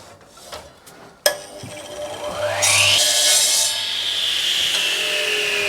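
A plunge saw bites into wood with a sharp thump, then its motor winds up into a loud, steady whining cut that continues to the end.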